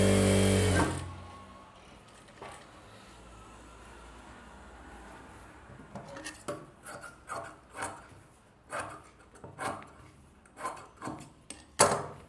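A sewing machine stitches along the border of a baby's silk skirt. After a quiet stretch, short bursts of rapid stitching start and stop repeatedly, close and alone.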